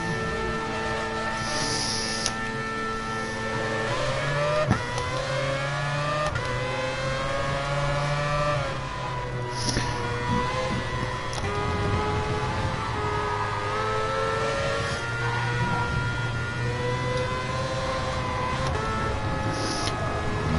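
A Mazda race car engine lapping a track in a PS4 racing game drones steadily and loudly, its pitch climbing and dipping with shifts and throttle changes, alone without talk.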